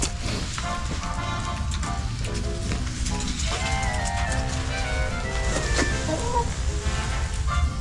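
Chickens cluck and murmur close by over a constant hissing background, their soft calls scattered throughout.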